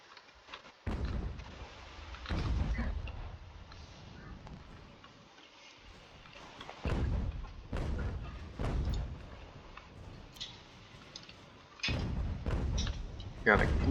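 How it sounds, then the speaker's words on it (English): Cannon artillery booms in a large Ultimate General: American Revolution battle, several heavy thumps spaced out across the clip while someone talks over them. "Got at least a cannon."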